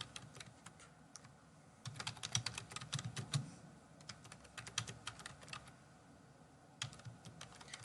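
Steady typing on a computer keyboard while entering text into a Google Docs document, with quick irregular clicking keystrokes in bursts and short pauses, fairly close and alone.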